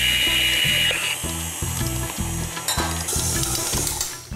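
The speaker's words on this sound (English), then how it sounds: "Turn the mixer" An electric stand mixer runs at low speed, kneading dough for an Indian barbecue dish in a mixing bowl, giving a steady whirring motor with a rhythmic pulsing churn that carries throughout, close and fairly loud.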